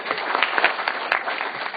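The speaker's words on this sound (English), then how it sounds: "give yourselves a round of applause" Rally attendees at a county courthouse applaud, a continuous wash of clapping with a few sharper claps standing out, fairly close and steady for the whole stretch.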